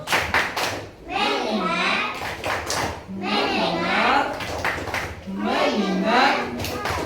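Elementary schoolchildren perform a focus clap routine in class, quick bursts of group clapping alternating with loud unison chanting, repeated three times.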